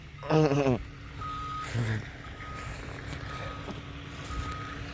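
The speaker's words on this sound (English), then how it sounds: "the dump truck's coming back in" A dump truck backs in at a house construction site, its reversing alarm beeping in a steady repeated pattern over a low engine rumble, after a short burst of voice at the start.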